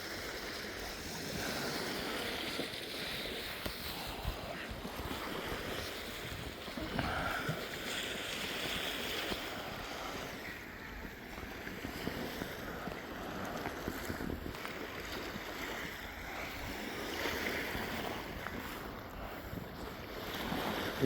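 Waves washing over a rocky black-sand shore at Crescent Beach, a steady broadband surf roar with gusts of wind noise throughout, no talking.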